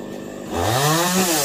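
A chainsaw cuts branches on a fig tree; after a brief quiet moment, the engine roars up loudly and holds a steady, buzzing drone close by.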